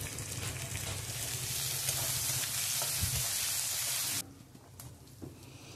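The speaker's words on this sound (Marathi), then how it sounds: "कांदा परतवून झाल्यावर त्यात घालूया बीन्स आणि शिमला मिरची। हे सर्व मिक्स करून घेऊया।" Beans and capsicum sauté with onion in a pan, a dense hissing sizzle with a soft stirring thump, then the frying drops abruptly to a quieter crackle.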